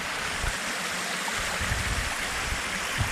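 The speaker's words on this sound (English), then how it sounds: "The waterfall." A waterfall at Campsie Glen rushes steadily and loudly close by, a dense unbroken roar of falling water with low rumbling surges and no voices.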